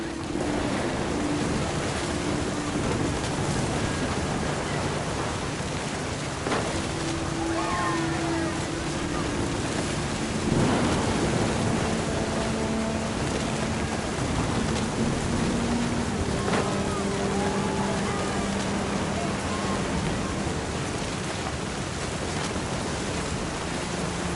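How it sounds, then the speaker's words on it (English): A thunderstorm with rain plays throughout in the game What Remains of Edith Finch, with a constant loud rain hiss and a few low rumbles of thunder, under faint background music. "Thunder sounded much too close and full of angry power."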